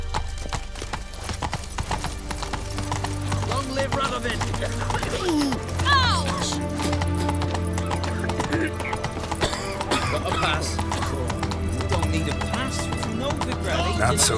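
Roach, the horse in The Witcher 3, gallops with rapid, continuous hoofbeats and a few snorts and whinnies, while a brief voice cuts in partway through.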